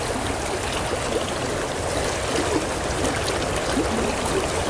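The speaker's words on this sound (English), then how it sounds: "the water's running heavy" A heavy river runs steadily with a dense, continuous rush and trickle of water, close and fairly loud, with no voices over it.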